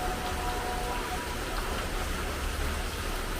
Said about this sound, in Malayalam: ഇച്ചിരി ഇപ്പോൾ തോർന്നു, എന്നാലും മഴയുണ്ട്.